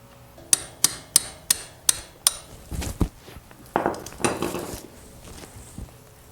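Metal tool strikes and clanks ring out while the bottom nut is worked loose on a Honda CB450 motorcycle: six evenly spaced sharp metallic taps, then irregular rattling clunks and scrapes, close up.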